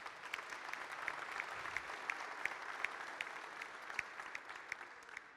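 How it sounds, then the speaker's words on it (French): An audience applauds at an association's annual general assembly, a sustained, even patter of many hands with sharper individual claps standing out, moderately distant and without talk. "Donc je pense qu'on peut aussi applaudir là-dessus."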